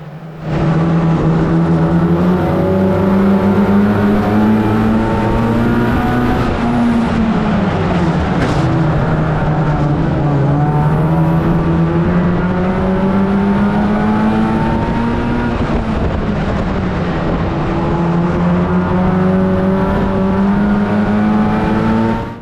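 A pack of more than thirty race cars roars through a racing video game, engines droning loud and steady with shifting overlapping pitches as cars jostle close together, no talk.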